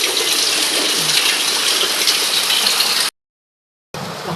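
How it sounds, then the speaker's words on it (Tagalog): Heavy rain pours steadily in a dense, hissing wash of water close by, cuts out abruptly for a moment, then resumes just as strong. "Lakas pa ng ulan, ano po."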